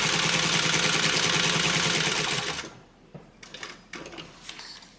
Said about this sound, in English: you're going to stitch right down this side